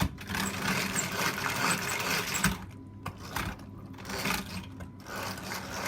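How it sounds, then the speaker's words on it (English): An old hand whisk churns eggs for a 1970s lemon drizzle cake, making a continuous, busy whirring and rattling close up that pauses briefly now and then before resuming. "I just want to make sure that I can mix it, get the eggs nicely whisked up."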